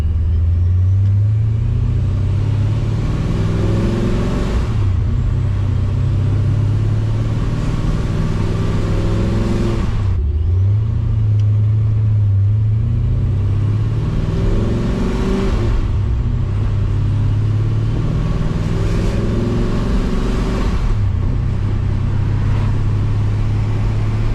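A ProCharged Pontiac GTO with long tube headers cruises at night, its loud deep exhaust rumbling as it accelerates through gears in repeated pulls, each rev climbing then dropping off at the shift.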